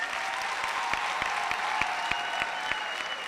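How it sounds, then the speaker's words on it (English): Audience applause at a university spring graduation ceremony honouring the Vice-Chancellor, a steady wash of many hands clapping with a few sharper claps standing out, moderately loud and continuous throughout. "Can we give the VC a big round of"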